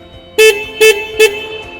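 Three short, loud honks from an electric reach forklift's horn (CQD16 AC series), evenly spaced, over a quiet low hum.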